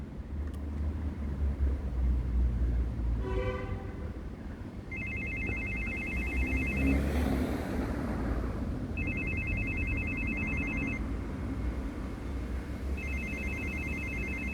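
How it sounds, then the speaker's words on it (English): Intercom phone ringing at a gate reception, heard as repeated electronic trilling rings in regular bursts with pauses between, over a low outdoor rumble and passing vehicle noise. "It's ringing, but nobody's answering."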